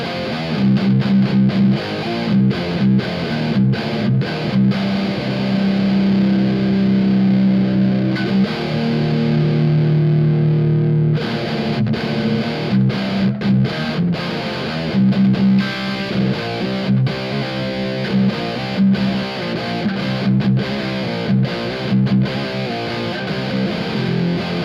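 Electric guitar in C standard tuning driven through a Razor Beak boost pedal, playing sustained distorted chords and riffs with a steady loud level, alone with no talking.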